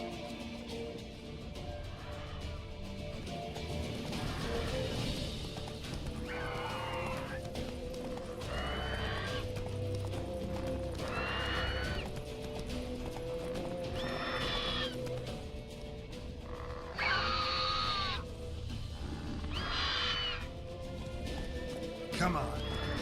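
A horse gallops in The Witcher 3, with rhythmic hoofbeats under repeated neighs and whinnies, while a person talks over it now and then.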